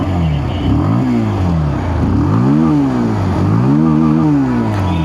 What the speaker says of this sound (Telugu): ఫ్రెండ్స్ ఒకసారి ఎగ్జాస్ట్ సౌండ్ వినండి.